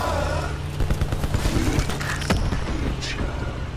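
Gunfire in Call of Duty: a dense, steady stream of rapid shots with booming low rumble, loud and continuous for the whole stretch, with a few sharper cracks standing out.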